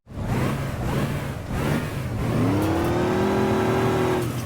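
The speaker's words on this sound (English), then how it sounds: "The Halo 2 Anniversary Warthog is my favorite sounding hog in the series" The Warthog vehicle engine from the video game Halo 2 Anniversary revs hard and sounds angry. It builds to a loud, rising, sustained whine near the listener, with no speech.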